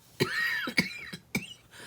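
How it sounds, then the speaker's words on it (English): A person with a lingering cough coughs several times in close succession, harsh raspy hacks with brief pauses between them, close and fairly loud. "from this stupid cough that just doesn't want to go away"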